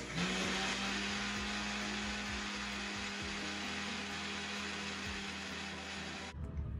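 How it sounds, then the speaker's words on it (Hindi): A mixer grinder grinding soaked moong lentils whirs continuously at a steady pitch with faint rattling, running for several seconds before cutting off abruptly near the end. "अब इसको मिक्सी में डाल के हम लोग पीस लेंगे"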